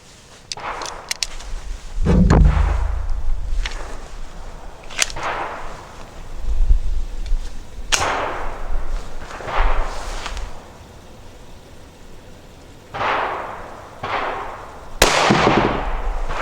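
9mm FMJ rounds fired from a Glock 17 pistol outdoors, around nine sharp cracking shots at irregular spacing over about sixteen seconds, loud and close with echoing tails and no talk.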